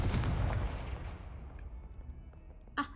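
A blasting-curse spell cast in a video game, a booming explosion that bursts out at full strength and then decays over about two seconds, with a brief sharp effect at the end.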